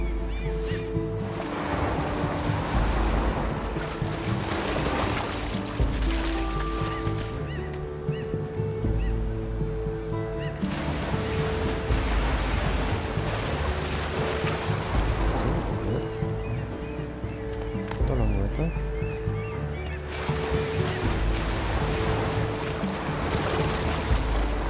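Ocean waves wash in and recede in steady, broad surges along a shore in the video game Unravel, with layered in-game music tones running beneath the continuous water noise.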